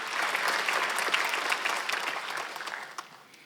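A church congregation at a Sunday worship service applauds warmly, a dense crackle of many hands that holds steady and then tapers off toward the end.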